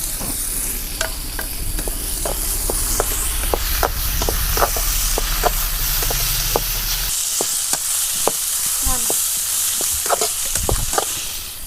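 Onions and tomatoes fry in a pan, giving a steady close sizzle broken by repeated sharp stirring clicks and scrapes of a spoon against the pan, with no talking.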